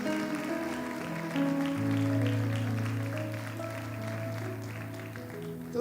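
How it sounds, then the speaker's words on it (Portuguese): Applause from a church congregation during a worship service, a broad patter of many hands sustained under loud, steady organ-like music. "aplaudam o Senhor"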